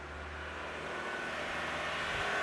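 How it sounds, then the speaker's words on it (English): Toyota Dynamic Force engine running at a raised high idle just over 2,000 RPM during a coolant replacement, a steady continuous hum with low rumble that builds slightly in loudness, with no talking. "We're gonna let the engine run."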